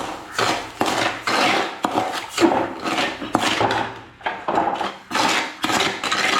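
A utensil stirs sugar syrup in a pan for Kerala ariyunda, giving repeated scraping and knocking strokes in an uneven rhythm, close and fairly loud with no talk.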